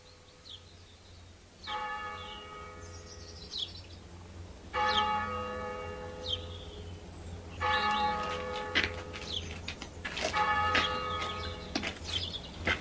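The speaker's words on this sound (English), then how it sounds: "Toll of the passing bell." A church passing bell tolls slowly, about four resonant strokes spaced a few seconds apart, each ringing out and decaying over a low steady background, with faint birdsong in the distance.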